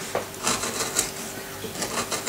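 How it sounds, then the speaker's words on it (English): A woodcarving tool slices cross-grain cuts into wood while roughing out a carved flower, a few short crisp scraping cuts in an irregular rhythm, close and alone. "make some cuts cross grain, okay, by slicing the tool"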